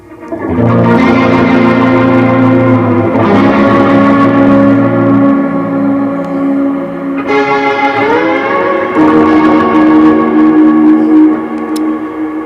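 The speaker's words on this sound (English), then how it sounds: "that's an H9 on a Leslie. That's the dual delay. Yeah. And that's the big plate reverb from the CXM." Electric guitar run through an H9 on a Leslie setting, a dual delay and a big CXM plate reverb, with sustained chords swelling into a loud, washy, modulated tail of repeating echoes, played alone without talk.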